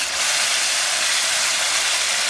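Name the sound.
tomato paste poured into hot pan, sizzling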